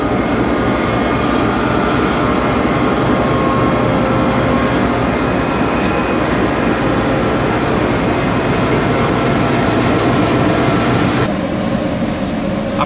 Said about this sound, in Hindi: दूसरा विसल भी हो गया है और ट्रेन रवाना हो रही है